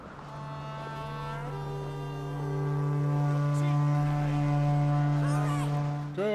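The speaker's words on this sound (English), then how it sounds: "You'll start when I sound the horn." In The Witcher 3 video game, a horn sounds to start a contest: a deep, sustained foghorn-like blast that swells and holds for several seconds, with a brief voice near the end.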